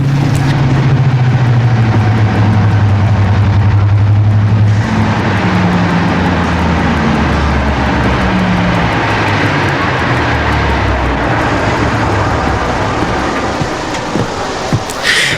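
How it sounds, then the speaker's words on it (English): Class 55 Deltic diesel locomotive 55022, Royal Scots Grey, runs its twin engines with a loud, continuous, reverberating drone and throbbing low rumble, close by, holding steady and easing slightly near the end, with no talking. "I could still hear the unmistakable sound of reverberating Deltic engines"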